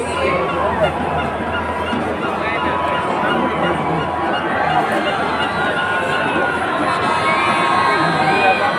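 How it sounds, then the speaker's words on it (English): A large excited crowd at an ISPF sports event in Bodoland Territorial Region, loud sustained cheering and shouting with children's voices and general babble throughout. "the crowd seems to be very excited. Please cheer up for the players."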